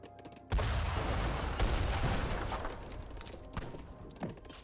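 A dense, continuous battle din from Age of Empires 3, with heavy cannon booms and volleys of musket gunfire rumbling together loudly through the whole stretch, barely any voice over it.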